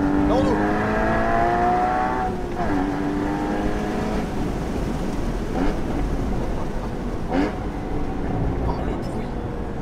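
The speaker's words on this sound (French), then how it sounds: "Le son de cet échappement, c'est dingue." A Porsche Boxster Spyder 981 exhaust roars as the engine revs through rising, sweeping pitches under acceleration, loud and close, with excited speech over it.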